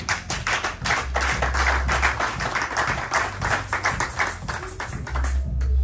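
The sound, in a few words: congregation applauding in church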